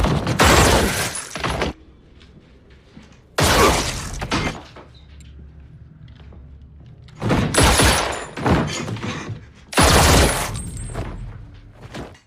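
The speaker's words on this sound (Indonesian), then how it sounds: "Hingga terjadilah tembakan yang membabi buta" Indiscriminate gunfire erupts in a film scene in four loud, crackling bursts of rapid shots separated by quieter stretches of low rumble and debris.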